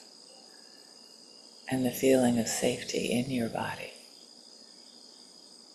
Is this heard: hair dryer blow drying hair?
no